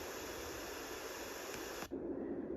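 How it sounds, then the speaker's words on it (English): Bright, even white noise from a Magicteam sound machine, a constant full-range hiss that holds steady for about two seconds before cutting off with a click into a different, softer noise. "Fourth sound is white noise."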